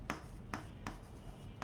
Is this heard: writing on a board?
yes